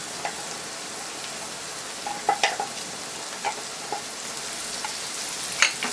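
Chopped onion and tuna, with olives, fry in oil in a pan, giving a steady soft sizzle with scattered sharper pops and crackles, close and alone without voices.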